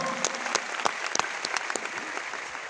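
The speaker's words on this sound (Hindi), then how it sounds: "एक बार जोरदार ताली दो," A crowd applauds at a Jashn-e-Bihar celebration event, with lively clapping and a few sharper individual claps standing out over a steady wash of hands.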